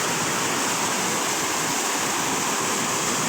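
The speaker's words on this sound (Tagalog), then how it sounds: "Dito bumabagsak ang tubig. Mula doon sa swimming pool sa taas." Water pours steadily from an upper swimming pool down into a lower basin at a natural spring resort in Lagayan, Abra, making a continuous, loud, broadband rushing roar like a waterfall.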